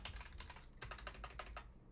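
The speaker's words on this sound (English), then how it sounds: "Boy, I sure do love typing incorrectly." Rapid clattering keystrokes on a computer keyboard, a continuous quiet burst of typing heard close up.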